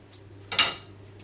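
A utensil chops through cooked lasagne sheets in a dish, a single sharp clatter of metal on the dish bottom, brief and close.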